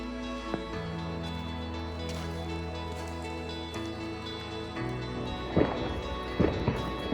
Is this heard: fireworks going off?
yes